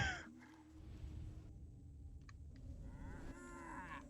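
Cattle moo in the PS2 action game Destroy All Humans!, low drawn-out bovine calls over a steady game ambience, fairly faint and without talk.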